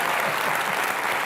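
A studio audience at a comedy show claps loudly and steadily in a dense, even burst of applause with no break, filling the whole moment.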